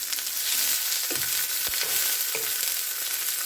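Chopped mushrooms fry in a pan, a close, steady sizzle with a few soft stirring scrapes and no voices.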